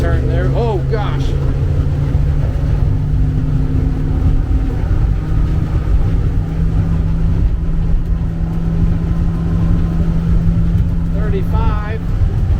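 A 2015 Raider Pro Sport 202 boat with a Suzuki 150HP outboard running at full throttle, a steady loud engine drone with rushing water, while someone talks over it throughout.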